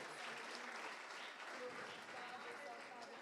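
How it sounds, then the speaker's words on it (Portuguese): Congregation applauding during a church service, a steady wash of clapping from many hands heard at a distance and fairly faint, continuing throughout. "Pode aplaudir a Deus pela vida deles."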